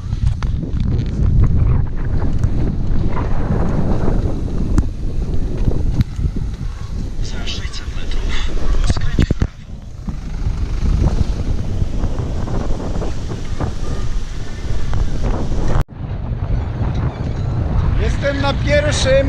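Strong coastal wind roars and buffets the microphone continuously while cycling along the coast near the Hel Peninsula, a loud, rough rumble with brief gaps.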